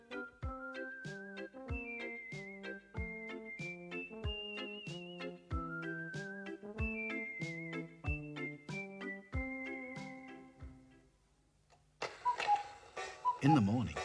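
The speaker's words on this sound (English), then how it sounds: "the old lady woke up to the sound of ticking and tocking and different chimes" Several old clocks restored to working order tick and tock in a steady, overlapping rhythm while bright chimes ring out in repeating melodic phrases, fairly close and clear, giving way near the end to a brief burst of other noise.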